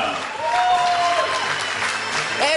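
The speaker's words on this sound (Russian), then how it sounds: "попрошу вас поаплодировать спортсменам первого поединка" An audience at a combat-sports event applauds the fighters after the first bout, a steady wash of clapping that stays loud throughout, with a whistle-like tone sliding through early on.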